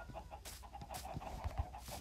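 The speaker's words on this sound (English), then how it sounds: "I got heaps of chickens crapping out eggs into his chest" Chickens in the Minecraft video game clucking in short repeated bursts, fairly faint and heard alone without talk.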